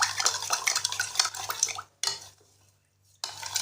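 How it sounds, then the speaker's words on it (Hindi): Spices are stirred briskly with a spoon in a bowl to make syrup for guava fruit chaat, close scraping and clinking, then a brief pause and a short resumption, with no talk. "मिक्स करेंगे अच्छी तरह से।"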